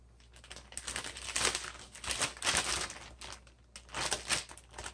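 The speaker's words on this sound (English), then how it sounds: "take your gallon-sized plastic bag and put the tri-tip inside" A gallon-sized plastic bag crinkles and rustles as a raw tri-tip roast is pushed inside, the handling coming in repeated close, bursty crackles with short pauses between.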